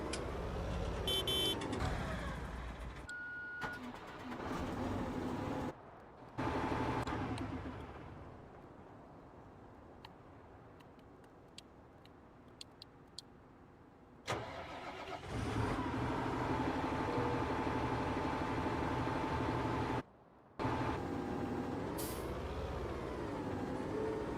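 A JCB Fastrac 3200 Xtra tractor in Farming Simulator 19 runs its engine with a steady mid-pitched drone, broken by a few short silent gaps and a quieter stretch in the middle, with no talking.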